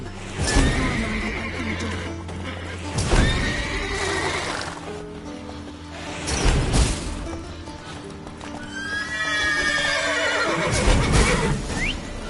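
Horses neigh loudly several times, shrill whinnies spaced a few seconds apart, with hoof clatter and busy game-like background noise.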